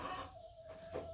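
A hen on a farm nest gives a short run of soft, close clucks with a brief louder squawk near the end, over a low background murmur.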